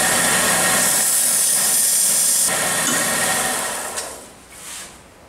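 Wire wheel on a power tool brushing rust from the inside of an old metal tool head, a loud, steady, harsh whirring grind close up that fades off and stops near the end.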